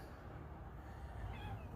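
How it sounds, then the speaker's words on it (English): A cat meows once, a thin rising call heard faintly over steady low rumbling background noise in a ranch workshop. "Anybody want a cat?"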